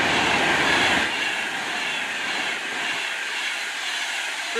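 A Virgin Class 390 Pendolino, 390-013 Virgin Star, running through Stafford station on the West Coast Main Line, a loud close roaring rush with a hissing high wash that eases slightly after the first second.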